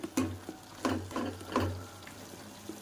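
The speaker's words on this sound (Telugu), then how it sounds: "బాగా కలుపుకోవాలండి ముక్కలకు పట్టేటట్టు." Chicken pieces are stirred in a pan with a paste of green chilli, coriander, mint and salt, giving close, wet scraping strokes in uneven bursts over a faint sizzle, with no talking.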